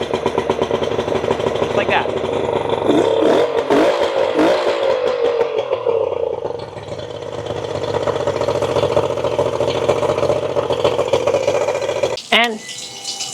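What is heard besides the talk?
two-stroke outboard motor starting and idling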